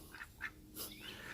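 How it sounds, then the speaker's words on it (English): Peking ducks, a Peking and runner mix, let out a few short, scattered quacks with brief gaps between them, faint against quiet outdoor background noise. "Those are my Peking ducks."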